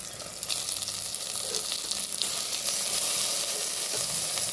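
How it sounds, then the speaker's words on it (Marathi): Squeezed drumstick leaves hit a hot spiced-oil tempering and sizzle loudly and steadily, a dense close hiss that starts abruptly and holds without pause. "भाजी चांगली नितरून घ्यायची आणि पिळून घ्यायची आणि फोडणीमध्ये टाकायचे"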